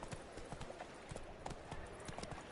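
Roach, a horse in The Witcher 3, galloping with quick rhythmic hoofbeats, fairly faint and steady, with no talking over the clip.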